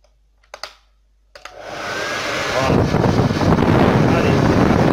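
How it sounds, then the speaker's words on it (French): A hair dryer blowing hot air onto a damaged rechargeable battery pack. A couple of sharp clicks come first, then the motor whooshes up to a loud, steady roaring hiss that continues to the end. "je vais prendre mon sèche-cheveux et je vais le chauffer."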